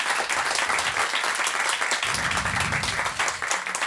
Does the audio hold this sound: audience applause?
yes